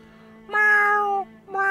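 A cat meows twice, close and clear: one drawn-out meow followed by a shorter one after a brief pause.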